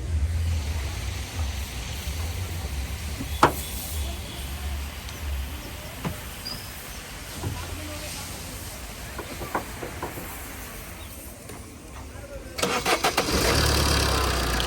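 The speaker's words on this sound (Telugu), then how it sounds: "సింగిల్ సెల్ఫ్లో వెహికల్ అనేది స్టార్ట్ అవ్వడం జరుగుతుంది" A 2016 Tata Zest Quadrajet 90PS diesel car is cranked and fires up near the end, a short starter burst followed by a rough engine catch, after quiet ambient noise and a few clicks.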